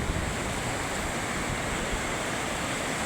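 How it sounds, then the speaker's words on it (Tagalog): Strong ocean waves crash and surge at a rocky beach resort, a loud, continuous broadband roar of surf with steady wind noise throughout, no voices. "Nakakatakot yung lakas ng alon."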